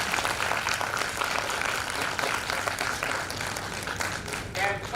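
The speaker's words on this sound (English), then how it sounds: "give a sincere round of applause for the organizers for making it successful" Audience applauding at an international zoology conference at a university department, a steady dense patter of many hands clapping throughout, fading slightly toward the end.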